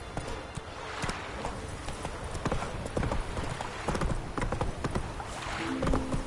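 Horse hooves clip-clopping at a gallop in The Witcher 3 on PS4, a steady run of hoof strikes with game ambience and brief speech near the end.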